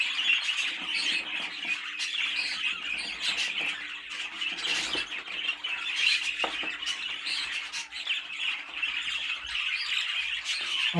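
Pet birds, a dominant pied and a light green, squawk repeatedly inside a show cage, a busy run of harsh, fairly close calls with no pauses.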